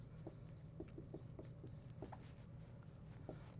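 Handwriting of a sentence with a pen or pencil on paper, soft scratchy strokes and light taps in an irregular rhythm, close and quiet over a low background hum.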